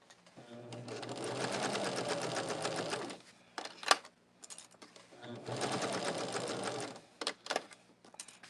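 Sewing machine stitching the last border of a quilt, two close, steady runs of rapid mechanical chatter of about three seconds each, separated by a pause with clicks and handling sounds.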